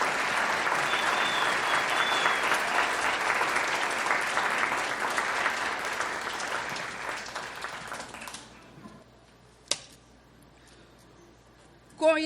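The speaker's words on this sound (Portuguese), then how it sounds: "Aplaudamos a professora Elvira." Sustained audience applause at an award ceremony of the Academia Cearense da Língua Portuguesa, dense and steady for about eight seconds, then dying away into near silence broken by a couple of isolated knocks.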